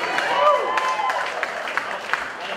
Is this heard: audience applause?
yes